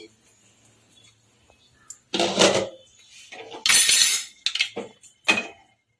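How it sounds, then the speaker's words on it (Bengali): A metal lid lifted off a pot of simmering vegetable soup, giving a few loud clanks and scrapes of metal on metal, with quiet gaps between the knocks. "ঢাকাটা খুলে নিচ্ছি"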